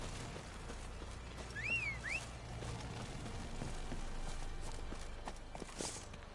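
Horse hooves trotting in The Witcher 3, a steady mid-level clip-clop rhythm running under ambient game sound, with a brief whistle-like tone rising and falling near the start.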